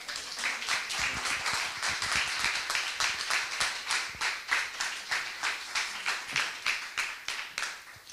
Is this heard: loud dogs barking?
no